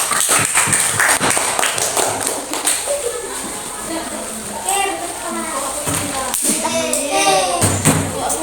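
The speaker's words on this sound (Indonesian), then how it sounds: "Beri tepuk tangan untuk kelompok 4" A sixth-grade classroom claps for group 4, with rapid claps at the start and again near the end amid lively children's chatter and a teacher's voice.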